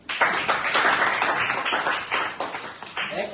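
Students in a school classroom clap together in a dense burst of applause lasting a few seconds, close and fairly loud, tapering off at the end.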